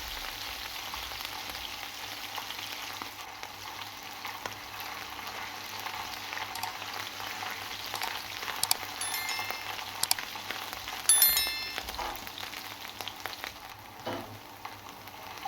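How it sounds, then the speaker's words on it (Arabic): Garlic and two hot chili peppers fry in oil in a pan, giving a steady, even sizzle throughout, with a few louder crackles and pops near the end and no voices. "هنحط الثوم وقرنين فلفل، بس الفلفل يكون حراق، فلفل حامي كده عشان يدينا النتيجه المطلوبه، وهنحمرهم مع بعض"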